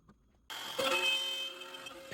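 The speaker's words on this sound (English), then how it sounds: "So now we're going to cut the slots. I chose to use the CNC." A CNC machine cuts slots in a taped-down workpiece for a bandsaw log sled, starting abruptly after a brief quiet moment with a loud, steady high-pitched spindle whine and cutting noise that continues to the end.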